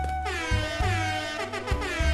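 Air horn emote from the Fortnite video game blasts in a quick series of loud, honking bursts, several short stuttering blasts followed by a longer one, prominent and alone.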